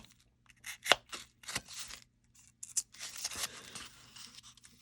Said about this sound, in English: I'm just going to go through and kind of cut some chunks out of it